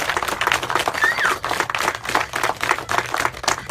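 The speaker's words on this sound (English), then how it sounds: "let's give his wife and children a round of applause" An audience at an outdoor mural dedication claps for a family, a dense burst of many hands applauding steadily and fairly close, without a break.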